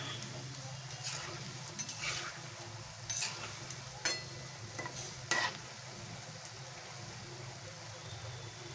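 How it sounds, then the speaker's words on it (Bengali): Mango pitha fries in oil with a steady, even sizzle close by, broken by a few soft taps and scrapes from the pan. "এভাবে আমি সুন্দর করে ভেজে নেবো"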